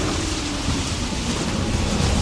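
Steady heavy rain pours through a stormy night with low rumbling thunder rolling underneath, loud and continuous without pause.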